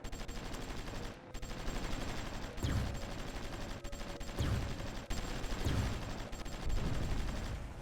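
Danish artillery fires in a strategy war game, several heavy thumping shots spaced irregularly among a steady rumble of battle noise, each booming report rising above the background.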